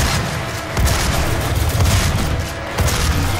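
Rapid gunfire from a DOOM chaingunner enemy in the video game, a dense, loud barrage of repeated shots filling the whole stretch with boomy, continuous bursts and brief swells in intensity, with no talking over it.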